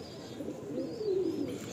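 A Kalsira pigeon coos close by in a loft, a short burst of throaty rolling coos rising in the second half, with a faint bird chirp in the background.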